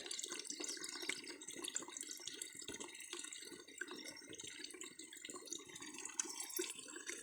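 Tap water runs steadily to fill tanks, a continuous close splashing flow with faint drips that holds at a level volume for the whole stretch, with no voices.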